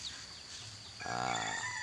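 A rooster crows in the morning, one drawn-out cock-a-doodle-doo that rises clearly in the second half over quiet ambient noise.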